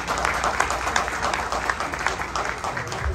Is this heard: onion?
no